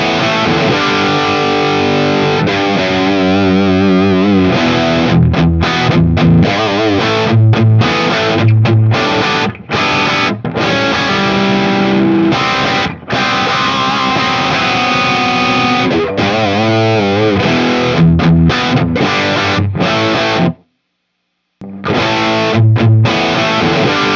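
Loud, heavily distorted electric guitar with a buzzsaw edge plays chords and riffs through a cabinet loaded with Celestion Greenback speakers, steady and close, with a brief drop to silence near the end.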